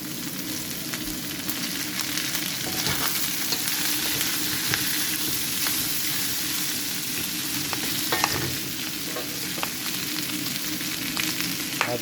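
Boiled sliced pork sizzles and fries steadily in a pan for pork afritada, a continuous loud crackle with occasional stirring scrapes and no talking.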